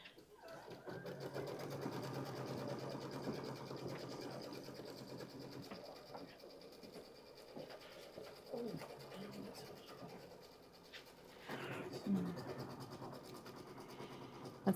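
A sewing machine hums and whirs steadily while stitching a placement line for the background fabric of a Kimberbell Mistletoe Mystery quilt block, fairly faint, with a brief lull and some handling noise near the end.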